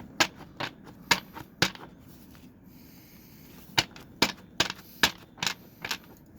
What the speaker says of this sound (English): I'm going to, oopsie, quickly shuffle